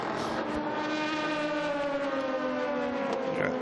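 A 4.2-litre race car engine screams at high revs during an endurance race at Dubai, a loud, sustained harmonic whine that holds steady with slight pitch shifts, and no voices over it.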